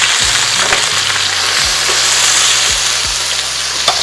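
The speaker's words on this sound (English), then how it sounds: "We will give it a stir right here." Red bell pepper and meatball marinade stirred in a hot pan, a steady loud sizzle with a few scraping strokes of the spoon across the surface; no voices.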